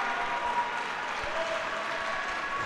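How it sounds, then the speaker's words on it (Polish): A futsal match crowd applauds in a dense, steady round of clapping that holds at an even level throughout, with no clear voices on top. "zasłużone brawa teraz dla Mariusza Raczkowskiego"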